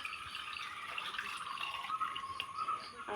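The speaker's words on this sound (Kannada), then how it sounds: "ಈಗ ಚೂರು ನೀರು ಹಾಕೋಣ" Soft, close trickling and splashing of water being poured, faint and continuous for a few seconds with no talking.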